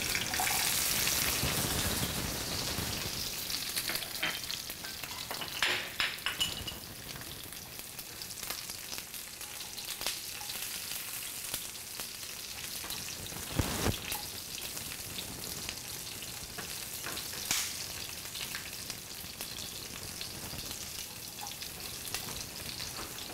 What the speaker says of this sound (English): once you let the oil heat up, I'm gonna toss in the garlic